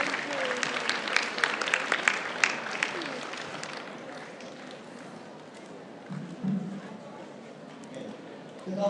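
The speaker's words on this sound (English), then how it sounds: "a big round of applause for both our moderator and our speaker for the next session this morning" Audience applause at a morning conference session on finance fills the first few seconds, dense and fairly close, then thins out and fades into room murmur and faint talk.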